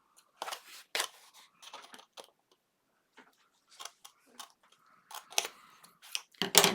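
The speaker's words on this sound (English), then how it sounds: "On these side pieces, I'm just going to cut even with the side of that chipboard." Scissors cut through chipboard in a series of sharp, crisp snips in irregular bursts, close and fairly quiet, with short pauses between the cuts.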